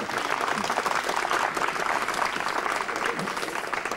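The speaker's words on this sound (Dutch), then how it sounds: "APPLAUS." An audience at a Dutch farewell event applauds steadily, a moderately loud, even wash of many hands clapping that continues without a break, with a faint murmur of voices beneath.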